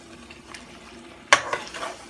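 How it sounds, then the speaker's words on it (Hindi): Chicken cooking down in a pan for chicken curry, a low sizzle followed by a sharp spatula scrape and a few stirring knocks near the end. "फिर भूनेंगे इसको। ये देखिए चिकन गल गई है बिल्कुल"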